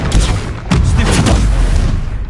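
Confringo blasting spell in Hogwarts Legacy on PS5, a loud booming explosion with a sharp second impact and dense rumbling debris throughout the short burst.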